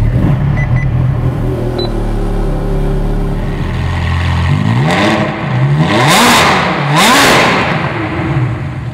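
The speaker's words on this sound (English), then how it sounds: "Let's start up this bad boy." A Ferrari 430 Scuderia with a Novitec twin-supercharged engine idles loudly, then is revved hard several times, each sharp rising wail dropping back, close and loud.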